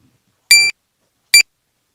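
Two bright metallic glockenspiel chimes, a longer one followed by a shorter one, ringing clear and high with bell-like overtones against silence.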